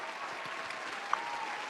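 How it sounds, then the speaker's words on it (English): Applause on a sports podcast's 100th episode, a steady dense wash of clapping held at an even moderate level for the whole short span, with no talk over it. "let's give ourselves a round of applause."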